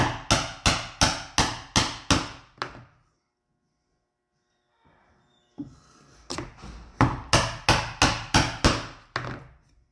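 Sharp, ringing mallet strikes drive a chisel into wood in two evenly spaced runs of about eight blows each, close and loud, separated by a few seconds of near silence and faint handling noise.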